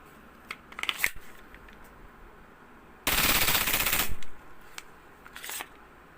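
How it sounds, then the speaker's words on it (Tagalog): A WE Glock 17 gas airsoft pistol fires on full auto, a loud, rapid burst of about a second, nearby and isolated, surrounded by quieter clicks and handling of the gun. "Kakalabitin mo na naman yun. Full auto na uli yan."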